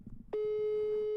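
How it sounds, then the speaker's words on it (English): A steady telephone tone sounds on a call, starting abruptly after a moment of faint background noise and then holding loud and unbroken to the end. "the phone is ringing"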